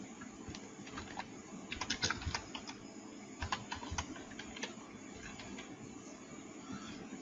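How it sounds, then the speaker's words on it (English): Keyboard typing at a computer while entering a presentation title, a run of quick light key clicks in irregular bursts, fairly close and fairly quiet, with no talking. "So I'm going to click here and type the title of this presentation."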